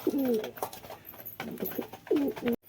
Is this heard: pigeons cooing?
yes